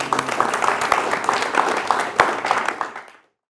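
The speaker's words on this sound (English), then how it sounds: "Ladies and gentlemen, can we get a big round of applause," An audience applauds a panel speaker, sustained dense clapping filling the room for about three seconds before cutting off abruptly, with a voice briefly heard under it.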